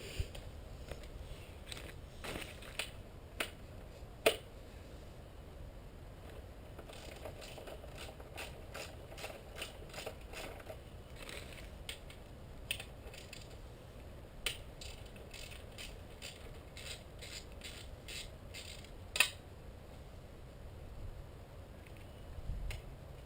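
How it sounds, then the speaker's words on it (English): A ratchet wrench loosens the two 10mm exhaust pipe bolts on a 1979 Yamaha YZ 400 dirt bike, with quick runs of clicking pawl strokes and occasional sharper clanks, close and fairly quiet. "now you want to loosen up the two 10mm bolts that's holding on the pipe to the frame"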